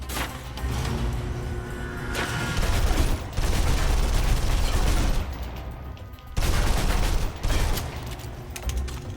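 Sustained bursts of submachine gun fire in the Alpha Protocol video game during a close-quarters room fight, loud rapid volleys with short gaps, backed by booms and clatter.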